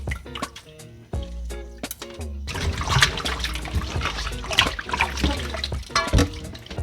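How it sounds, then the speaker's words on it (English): Water splashes and trickles as a fish is rinsed clean for Jamaican-style steamed fish, with close, uneven pours and drips that grow busier after the first couple of seconds. "Should wash your fish good."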